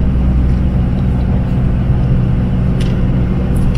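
A car climbing the road up Doi Inthanon in third gear at around 2,000 rpm makes a loud steady low engine rumble with road noise, even and unbroken throughout, and no voices.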